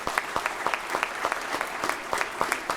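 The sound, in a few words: applause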